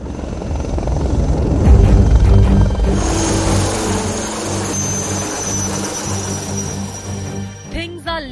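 An Indian HAL Prachand light combat helicopter, its loud rotor chop and turbine whine swelling early and then holding steady, close by, with a brief rattling burst near the end.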